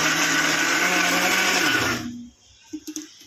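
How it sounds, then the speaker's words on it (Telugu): A mixer grinder whirs loudly at a steady pitch grinding green chillies, then winds down and stops, followed by a few faint clicks. "మిక్సీ తీసుకోవాలి."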